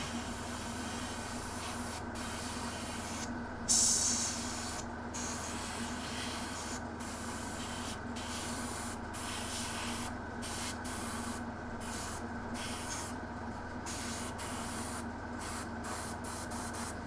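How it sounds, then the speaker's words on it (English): An airbrush sprays paint onto a Knight Armiger model, a steady faint hiss running continuously, broken by short regular pauses as the trigger is released and pressed again, with no talking. "let's airbrush this bad boy."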